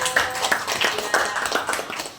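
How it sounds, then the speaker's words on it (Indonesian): A seminar audience claps for a presenter at a school workshop, a brief spatter of individual handclaps from a modest group, fairly close and uneven, fading out after about two seconds. "Tepuk tangan untuk narasumber kita Bapak Ibu."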